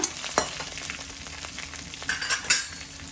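Whole star anise and cinnamon frying in oil for spicy potato rice, a steady crackling sizzle with a few sharp clinks of a utensil against the pan.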